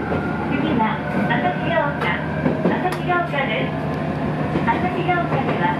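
A one-man Nippō Main Line train bound for Miyazaki Airport rumbles steadily along the rails, with a constant low drone and faint rhythmic clatter, while a recorded Japanese voice announces over the noise.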